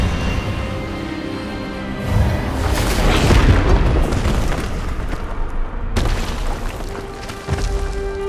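Expelliarmus spell cast in the fantasy video game Hogwarts Legacy, heard as a loud rushing magical burst with a booming swell midway, then a sharp cut and a lingering resonant tail.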